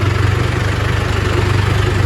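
A tractor engine idles steadily at a brick kiln, its loud, low, even throb holding constant and close with no voices over it.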